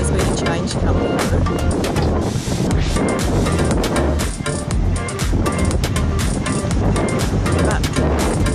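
Strong coastal wind roars steadily across the microphone along the shore, with surf rumbling underneath. A person speaks over the constant gusting.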